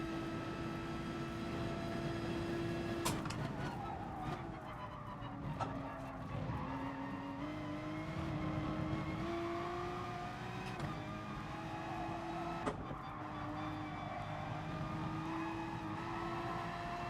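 Engines of race cars in a GT Sport mountain daily race, running close together, drone steadily near and loud for the whole stretch, with rising and falling pitch sweeps as cars shift gears and pass, plus a few sharp knocks.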